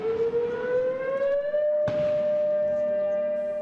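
A single long civil-defense siren wails at a Memorial Day ceremony at the Daejeon National Cemetery, rising in pitch and then holding a steady, loud tone, with a sharp bang partway through.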